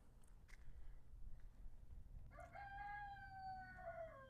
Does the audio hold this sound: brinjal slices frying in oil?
no